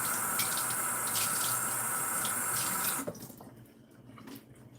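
Cold water runs from a kitchen tap into a cake-batter bowl, a steady gushing stream for about three seconds that cuts off abruptly, leaving faint clinks and kitchen handling.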